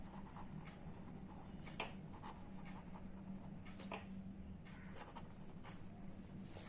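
Pen writing a book-keeping journal entry for a horse purchase, soft scratchy strokes and taps repeating faintly and close against quiet room noise.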